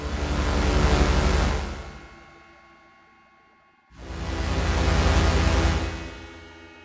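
A loud, wash-like synth tone from an OP-1 Field synthesizer swells and fades, cuts to near silence, then swells again, drenched in a splashy, metallic spring reverb.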